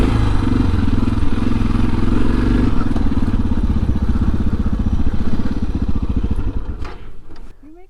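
A Suzuki DR650 dual-sport motorcycle slides its rear end down a dirt hill. The engine is loud and close, then the burbling thins out and fades near the end.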